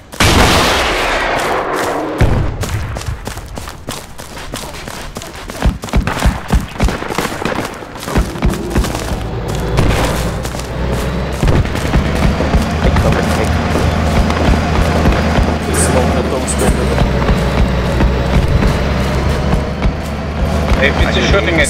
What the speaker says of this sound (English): APT is shooting at you